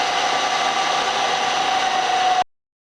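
A milling machine cuts flats on a steel shaft with a steady, loud, high-pitched machining whine and a constant tone that holds for over two seconds, then stops abruptly.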